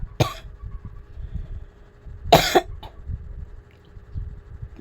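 A person coughs a few times, each cough short and sharp, with one louder burst followed by a smaller one, set against a quiet room.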